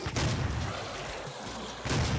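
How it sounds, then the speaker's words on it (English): Double-barrelled shotgun firing in Doom, two heavy booming blasts with a gritty decay, one at the start and another near the end, loud and close. "So you need the double shotgun here."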